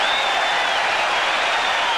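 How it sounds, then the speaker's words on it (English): Baseball crowd at Fenway Park giving a mock cheer after a third baseman's throw, a steady broad roar of many voices and scattered clapping filling the whole span without a break. "And a mock cheer for John Valentin on that throw"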